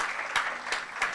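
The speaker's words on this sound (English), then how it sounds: "Round of applause to them." Brief applause from an audience at a university research week event honouring participants, a soft, even patter with a few louder claps punctuating it.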